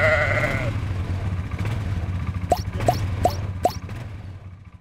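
A ewe bleats once near the start on an early lambing morning, followed by a few soft clicking or plopping sounds over a steady low rumble of indoor barn ambience.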